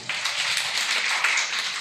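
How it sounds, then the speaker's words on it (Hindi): Dense, continuous clapping from a crowd at a school prize distribution for a Seerat-un-Nabi competition, steady and fairly loud without talking. "जोरदार ताली"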